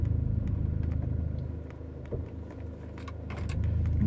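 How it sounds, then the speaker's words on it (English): A BMW E90 shifted from park into drive and rolling off, giving a steady low engine rumble that eases slightly midway and builds again toward the end, with no talking. "I'm going to take the vehicle out from park into drive and I'm just going to let the vehicle go"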